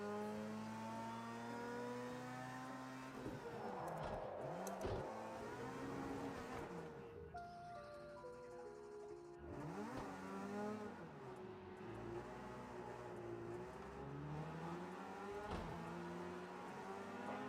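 In Project Cars 2, a race car engine revs hard on tarmac, rising and falling through gear changes with rapid up-and-down pitch sweeps, loud and continuous.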